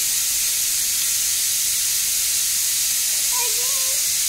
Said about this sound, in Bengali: আর প্রেশারে হচ্ছে সিটি পড়ছে